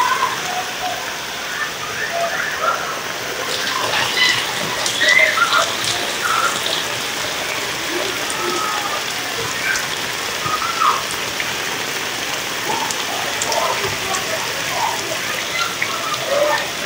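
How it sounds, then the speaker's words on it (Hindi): Heavy monsoon-style rain pours steadily outdoors, a dense continuous hiss of drops drumming on surfaces, with scattered brighter splashes and no talk throughout. "बहुत ज़्यादा तेज़ बारिश हो रही है और हर तरफ धुआं ही धुआं हो गया बस।"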